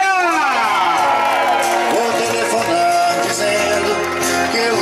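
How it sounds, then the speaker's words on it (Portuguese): A lively crowd at a 90th birthday party cheers and whoops loudly and continuously, with many overlapping voices shouting and celebrating; individual clapping is not clearly distinct within the dense noise. "Palmas pra galera!"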